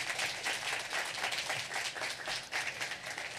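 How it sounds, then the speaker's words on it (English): A symposium audience applauds a guest speaker, a faint, distant and continuous patter of clapping with no voices over it. "Let's give a round of applause to Dr. Malveaux"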